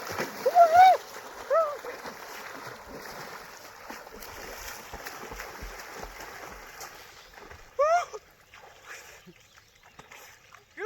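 Water splashes and sloshes close by as someone swims in the cold Godavari River in the morning, with a few chirping bird calls and brief bursts of louder splashing.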